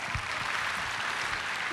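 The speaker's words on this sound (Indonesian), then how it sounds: "Oke, kasih tepuk tangan dong untuk Mas Emil." A talk-show studio audience applauding a guest, Mas Emil, with a steady, even wash of clapping throughout, moderately loud and with no voices on top.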